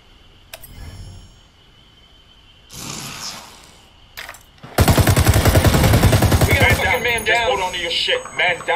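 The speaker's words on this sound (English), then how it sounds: "I'm opening fire." Rapid automatic gunfire from a video game firefight bursts in loudly and keeps rattling in a sustained stream, following quieter scattered sounds and brief talk over comms at the start.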